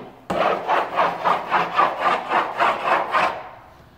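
The back of a mud knife and a screwdriver scrape across a painted wall in about nine steady, rhythmic back-and-forth rasping strokes, close and clear, with no talking, then stop abruptly.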